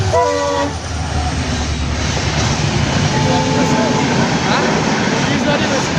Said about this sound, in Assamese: ৰেল পাৰ হৈ গ'ল